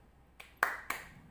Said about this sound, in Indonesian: setelah anak-anak tepuk tangan tadi